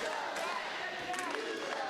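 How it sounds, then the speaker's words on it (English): Wrestling crowd at a Battleground Pro Wrestling show chanting together, a loud sustained roar of many voices filling the arena with rhythmic swells. "Crowd chanting, use that bat."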